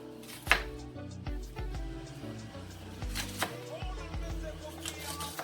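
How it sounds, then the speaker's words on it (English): Knife chopping onion on a board: a few sharp, separate thuds at irregular spacing, set against steady background music. "whilst I'm doing the chopping"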